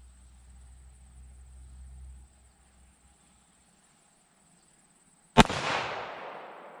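One loud, close gunshot from a Para Ordnance pistol cracks out after several seconds of quiet outdoor hum, followed by a short fading echo.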